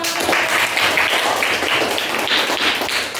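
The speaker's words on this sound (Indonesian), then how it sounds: "tepuk tangan dulu untuk" Students in a teaching-practice classroom clap together in quick, rhythmic bursts, close and fairly loud, with no voices over the clapping.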